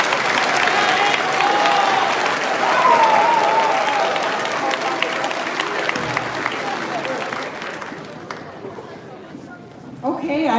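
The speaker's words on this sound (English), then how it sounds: "I'd like to just have everybody give a round of applause to our students that got to their seats tonight." An audience at a middle school eighth grade graduation applauds steadily with a few cheers, the clapping fading toward the end as chatter remains.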